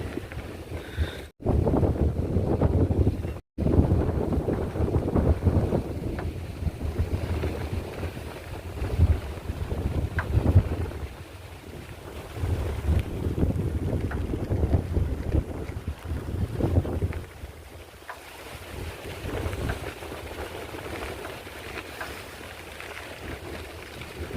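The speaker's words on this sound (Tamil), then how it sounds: "காற்று ஒரு பக்கம் அடிக்கிறது" Strong wind gusts outdoors near a temple in sunny weather, buffeting the microphone in a rough, low rumble that swells and eases over nearly half a minute. The rumble cuts out abruptly twice early on.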